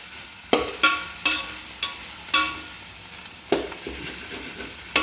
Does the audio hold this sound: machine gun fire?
no